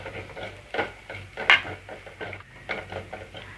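Chilli, coriander and turmeric powders with salt sauté in a pan for soya chunk gravy, with a spatula scraping and tapping repeatedly in a loose rhythm, close and moderately loud, over a faint background hum.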